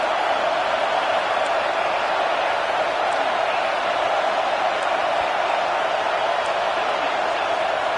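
A home crowd at an American football game keeps up a steady, loud roar throughout, with no breaks.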